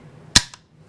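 A single sharp shot from a Polish AKM sporter rifle chambered in 7.62x39, loud and close, with a brief faint echo just after.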